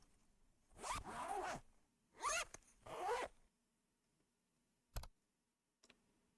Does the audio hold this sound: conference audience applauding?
no